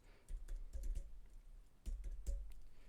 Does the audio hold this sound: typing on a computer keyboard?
yes